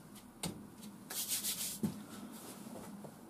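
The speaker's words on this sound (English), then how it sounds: "I'm going to sharpen it up with this method, which is basically an old worn belt from the grinder clamped in on a piece of marine ply." A puukko knife drawn across an old worn grinder belt clamped onto marine plywood makes dry, gritty rasping strokes, several of them at an uneven pace, close and moderately quiet.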